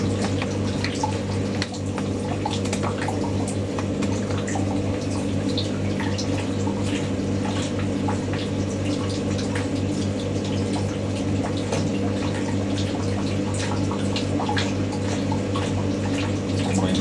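Steady warm water drains from a Hotpoint WD64 Aquarius Extra washer dryer during heat drying, pouring and splashing continuously with a low mechanical hum underneath, close by and unbroken throughout.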